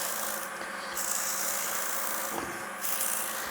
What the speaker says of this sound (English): We're going to do a little bit of sanding.